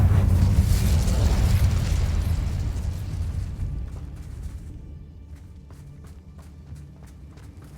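Roaring fire spell cast with Incendio in Hogwarts Legacy on PS5, a loud whooshing blast that fades gradually over several seconds, followed by faint scattered footsteps.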